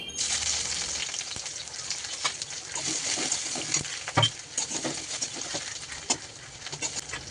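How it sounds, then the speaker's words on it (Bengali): Chopped onions frying in oil until light brown, a soft continuous sizzle close by with occasional small pops and stirring taps, fairly quiet and without speech. "পেঁয়াজ কুচিগুলো হালকা করে সামান্য একটু বাদামি হওয়া পর্যন্ত ভেজে নেবেন"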